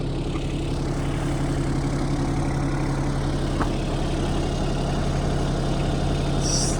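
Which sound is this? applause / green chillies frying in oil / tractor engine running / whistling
tractor engine running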